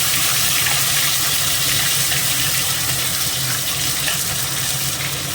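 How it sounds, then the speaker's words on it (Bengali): Cumin seeds, bay leaves, dried red chilies and ginger-chili paste sizzle loudly and steadily in hot oil for a khichuri, a dense continuous hiss filling the whole stretch with no talking. "দিয়ে দেবো জিরে ফোড়ন, 2 তেজপাতা, 2 শুকনো লঙ্কা, দিয়ে দেবো আদা লঙ্কা বাটা,"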